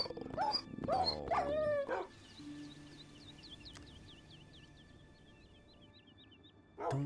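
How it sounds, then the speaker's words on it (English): A Minecraft dog whimpers and yips in game after falling into lava, starting with a few loud close barks and then thinning to a long series of faint, rapid high whines. "my dog just fell in lava."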